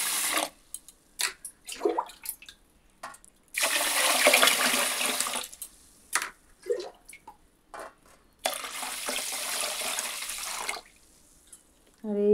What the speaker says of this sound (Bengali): তো চলো চালটা ভিজিয়ে দিয়ে রাখি।